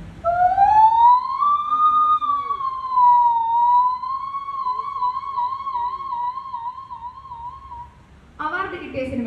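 An ambulance siren racing through a crowd, performed as stage mimicry by a human voice: a single long rising and wavering wail, loud and close, ending with a brief burst of other sound.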